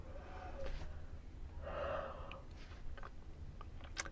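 A single drawn-out, breathy yawn, close and fairly soft, with a few faint clicks and breaths after it.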